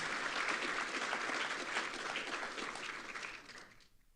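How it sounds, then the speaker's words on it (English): Audience applause for lightning talk presenters at a Code4Lib 2025 conference session, a dense, sustained wash of clapping from a crowd that fades out abruptly near the end. "Let's give a big round of applause for all of our lightning talk presenters"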